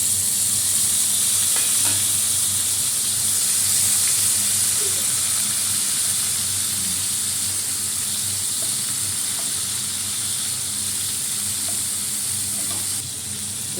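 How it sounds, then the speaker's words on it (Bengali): Cumin, tomato and green chili frying in hot oil, heard as a steady, bright hiss that holds evenly throughout with faint occasional ticks and no voices. "একটু জিরা ফোড়ন দিয়ে দিলাম, আর একটু টমেটো আর কাঁচা লঙ্কা দিয়ে দিচ্ছি।"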